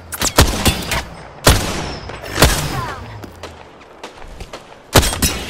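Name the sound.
gunshots in a video game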